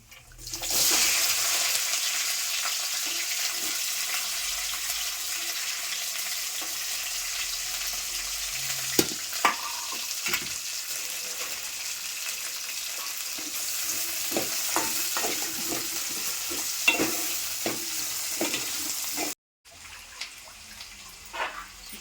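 Chillies and onions sizzle loudly in a hot pan, with scattered scraping and clinks of stirring, then the noise cuts out briefly near the end.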